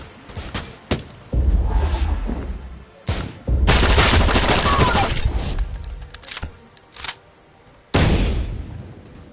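A big gun fires in the VR shooter game Sairento against a boss, with loud, close blasts and long roaring bursts that alternate with brief gaps, a voice talking faintly underneath.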